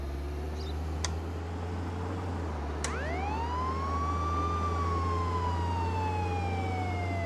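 In the game Contraband Police, a police car's siren winds up and sweeps slowly during an emergency drive, over a constant low engine rumble, after a couple of brief clicks.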